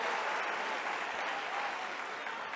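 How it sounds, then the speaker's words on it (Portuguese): A church congregation applauding together at a Portuguese-language worship service, a steady, dense wash of many hands clapping that stays even and full throughout, with no voices standing out. "Se é para aplaudir, aplaude todo mundo junto com vontade."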